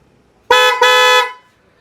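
A loud aftermarket car horn fitted to a 2025 Suzuki Swift gives a short blast, then a longer honk right after, clear and close with nothing else around it.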